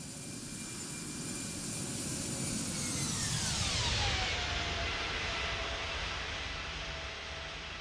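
A Toliss A320neo airliner in X-Plane 12 roars past in a flyby, its jet engine noise swelling steadily with a clear falling whine as it passes close by, then trailing off, with no talking over it.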